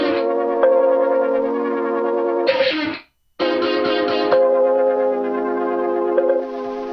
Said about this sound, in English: And then I've just taken the same vocal but chopped it so it sounds like this,